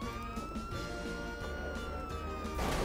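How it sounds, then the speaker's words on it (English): Police vehicle siren in the GTA 5 video game, a steady wailing tone sounding continuously over game background noise. "My siren's still going."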